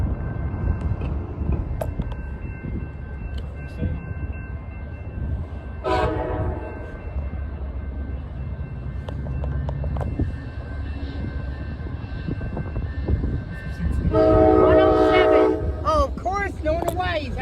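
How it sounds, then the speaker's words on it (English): An approaching Amtrak train sounds its horn in loud sustained blasts over a steady low rumble, with a final long, close blast near the end. "We have Amtrak 55 coming. He is late, but judging by the sound of the horn,"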